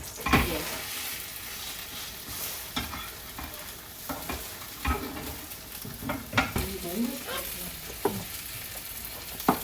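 Minari and spring herb pancake batter fries in a hot pan with a steady sizzle, broken by repeated scraping and stirring clicks of a utensil against the pan, close and continuous.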